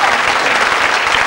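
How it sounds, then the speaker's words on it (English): A studio audience claps for a quiz show contestant, a brief burst of dense, loud applause with no voices over it. "Give them a round of applause, folks"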